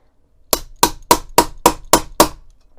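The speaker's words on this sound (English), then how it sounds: "just give it a few firm whacks with the hammer" A snap setter hammer strikes a hard surface seven times in a steady rhythm, each whack sharp, close and loud, with brief ringing decay between blows.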